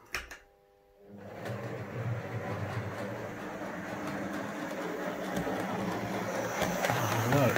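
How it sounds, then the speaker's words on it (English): A DC-powered model train runs around a layout track in an anti-clockwise direction, giving a steady, continuous rolling rumble with faint clicking after a short quiet start, and growing slightly louder as it goes. "Now it's now going around the track anti-clockwise."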